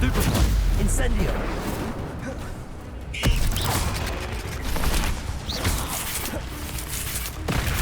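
Hogwarts Legacy combat with the Incendio fire spell cast repeatedly, bursting and crackling booms over a busy, loud mix of game effects and rumble.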